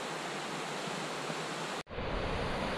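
West Walker River water rushing along a mountain trail, a loud, dense, steady roar of flowing water that cuts out for an instant near the end before resuming.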